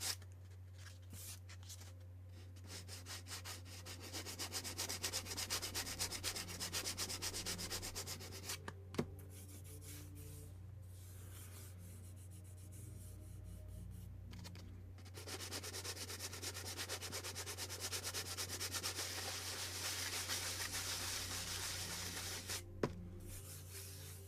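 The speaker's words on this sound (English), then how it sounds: "So just running that sandpaper off to try to take the texture" Sandpaper rubbing across a painted surface makes a soft, continuous scratchy hiss. It pauses briefly twice and has a faint tap or two, over a low steady hum in a quiet room.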